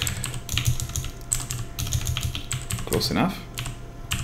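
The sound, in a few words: typing on a computer keyboard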